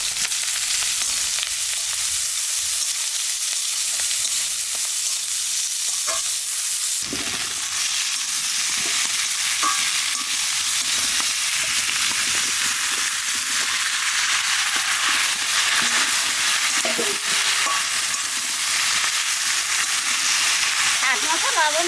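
Onions fry with potatoes and bitter gourd in hot ghee, producing a loud, continuous hiss and crackle that grows busier partway through, with faint stirring clinks beneath.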